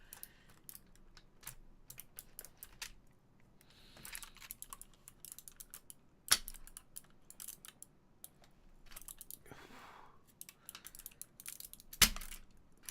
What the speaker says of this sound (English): I'm going to pop one switch out at a time to figure out which ones are giving me some issues.